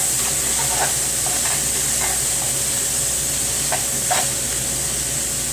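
Sausage and vegetables with hot sauce cook in a pot, giving a steady, close hiss of simmering and sizzling with a few soft clicks of bubbles or stirring and no voices.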